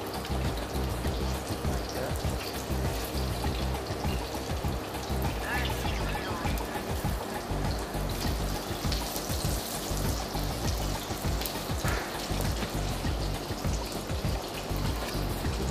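Lamb shank sizzling in a frying pan as it is seared for colour, a steady close crackle and spatter that runs throughout with a few brighter pops.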